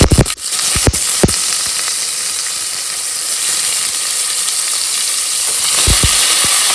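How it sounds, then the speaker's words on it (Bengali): Paneer cubes fry lightly in white oil in a pan, a loud, steady close sizzle with a few clinks of utensils at the start and end. "এবার পনিরগুলো ভেজে নেবো হালকা একটু।"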